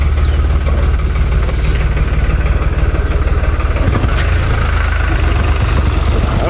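A motorbike engine runs steadily on a rough, downhill mountain road, a loud, continuous low rumble with a fast throbbing pulse that stays close and unbroken throughout.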